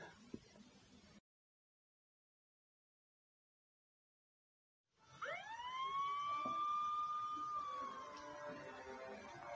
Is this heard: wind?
no